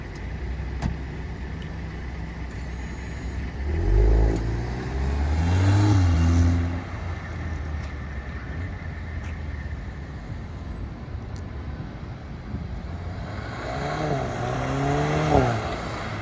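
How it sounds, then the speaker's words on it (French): A VW Golf 8 R heard from outside as it pulls away, its engine note rising and dropping through two gear changes with a brief lull between, fairly close and distinct over steady road noise, with another run of rising revs near the end. "vous allez voir de l'extérieur le son qu'elle fait au passage de rapport"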